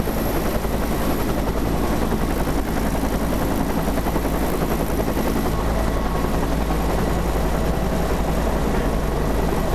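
Loud, constant helicopter rotor and engine roar from up close aboard a helicopter in the aftermath of Super Typhoon Haiyan, a dense, unbroken drone with a rapid chopping pulse.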